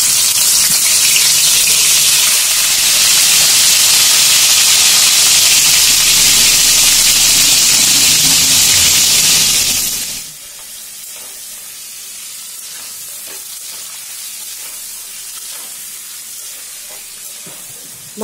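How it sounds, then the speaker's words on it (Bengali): Chicken pieces frying in oil in a wok for biryani, giving a loud, dense, steady sizzle that abruptly drops after about ten seconds to a quieter, sparser crackle. No voices. "বেরেস্তাটা ভেজে নিয়েছি, এখন মাংসগুলো ভেজে নিচ্ছি।"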